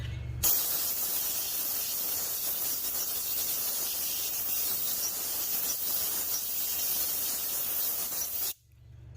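A long, steady blast of compressed air hisses loudly and continuously for about eight seconds into the engine bay of a Ford F-150 with a 5.0 V8 Coyote engine, then cuts off abruptly.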